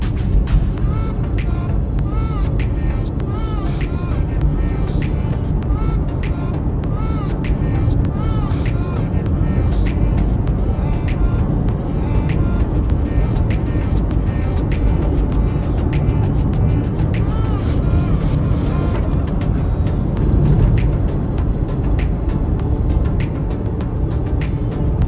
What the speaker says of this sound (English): There, that's the Enugu Port Harcourt Expressway